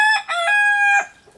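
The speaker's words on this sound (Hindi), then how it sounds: "अब तो एक नया अट्रैक्शन है ये कड़कनाथ मुर्गे, जो बीच बीच में आपको आवाज़ सुनाई दे रही है।" A Kadaknath rooster at a jungle resort near Rajaji National Park gives a single loud, close crow, a strained stepped call that rises, holds steady and then breaks off, followed by quiet.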